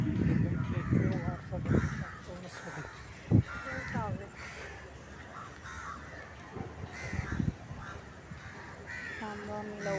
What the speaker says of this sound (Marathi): कावळ्याचा आवाज